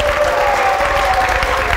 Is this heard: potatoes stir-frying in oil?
no